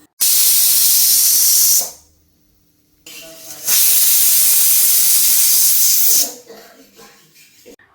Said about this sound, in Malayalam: ഇനി നമുക്ക് കുക്കറിൽ മീഡിയം ഫ്ലെയിമിൽ 2 വിസിലാണ് കേൾപ്പിക്കേണ്ടത്